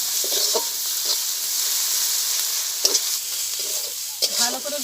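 A paste of ground coriander, fennel, cumin and chili sizzles steadily in a pan while it is stirred, with a few scraping strokes of the spoon over the constant frying hiss.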